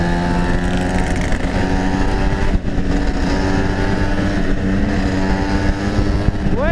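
A fake Vespa scooter revs hard at full throttle, its steady engine drone loud and close, rising in pitch near the end.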